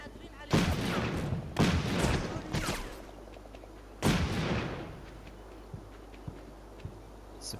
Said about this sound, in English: Still hearing some shots going in and out here and there.